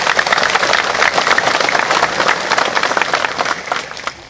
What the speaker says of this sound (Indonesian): Ya, tepuk tangan untuk Babinsa kalian.